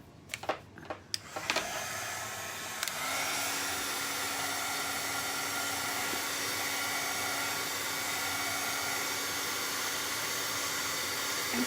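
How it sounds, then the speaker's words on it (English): After a few handling clicks, a dryer switches on and blows a steady, loud whooshing hiss of air over a cake door hanger, continuing without a break. "I'm just gonna hit this with the dryer real quick"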